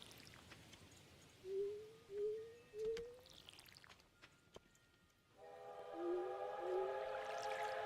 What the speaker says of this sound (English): Other train passing through.